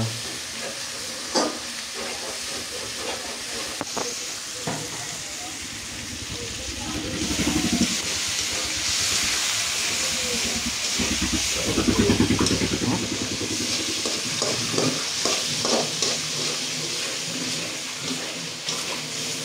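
Pigeon meat frying in a wok, stirred so it won't stick and burn, with a sustained sizzle and bubbling broken by scraping strokes of the spatula, growing louder midway, close up with no talk.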